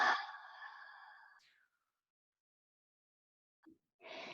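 A long, audible breath exhaled during a yoga pose, a breathy sigh that fades out, followed by silence and then a fresh inhale close to the microphone.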